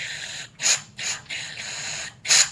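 Cleaner sprayed through the passages of a Briggs and Stratton 799866 carburetor, three short hissing bursts, each under a second, close and moderately loud.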